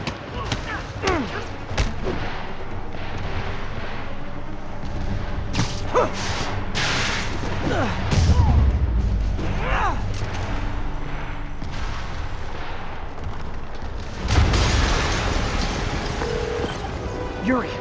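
Explosions and blasts from the video game Spider-Man Remastered rumble through a dense, continuous mix of game sounds, with heavy booms near the middle and a loud burst near the end, with characters talking in places.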